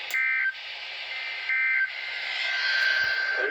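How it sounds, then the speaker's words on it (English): Steady high tone of a National Weather Service weather radio alarm from station WXK58 in Reno, a loud continuous tone that sits alone, with a brief pitch step near the start and end. "this has only been a test of the National Weather Service's radio alarm tone."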